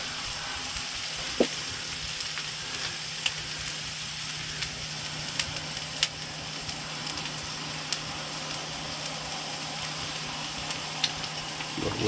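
Eggs frying in a pan with seasoning salt on a camp stove inside a hot tent in winter, a steady close sizzle with a low hum underneath and a few sharp crackles and clicks of stirring, no talk.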